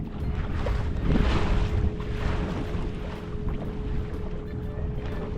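A motorboat engine, a 2022 Alumacraft 185 Competitor, drones steadily with a low hum while water and wind rush past, continuous and close, no talking.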